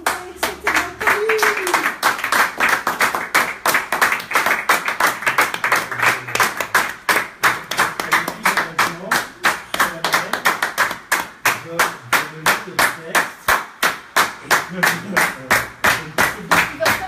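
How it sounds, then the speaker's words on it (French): An audience in a gallery claps in unison, a long run of sharp, evenly spaced claps that holds a steady rhythm and speeds up toward the end. A voice speaks faintly underneath early on. "Ah, vous voulez qu'on applaudisse?"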